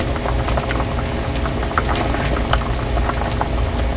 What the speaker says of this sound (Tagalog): Pakuluin lang po natin at mamaya po ay titikman.